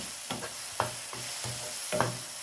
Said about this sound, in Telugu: ఆల్రెడీ మసాలా వేగిపోయింది, నూనె వదిలేసింది